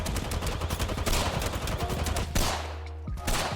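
Rapid automatic gunfire rattles in the Apex Legends firing range, dense bursts of shots crackling close and loud for several seconds before a brief pause and a final few rounds.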